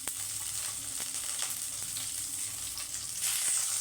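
Garlic and shallots frying slowly on a low flame, a continuous close sizzle with light intermittent stirring clicks, growing a little louder toward the end; no voices.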